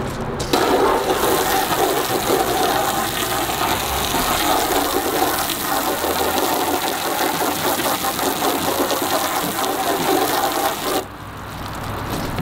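A garden hose sprays water steadily onto a car being washed outdoors, a continuous close hiss and splatter that runs almost unbroken before cutting off near the end.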